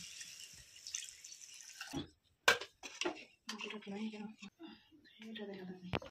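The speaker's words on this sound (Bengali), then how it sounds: "সব নারকেলের দুধটাকে এই ছাঁকনি দিয়ে ছেঁকে দিয়ে দিচ্ছি" Coconut milk is strained through a strainer into a pan of spices for a prawn malai curry, making intermittent drips and splashy trickles, with talking over the later part.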